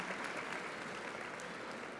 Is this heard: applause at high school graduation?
yes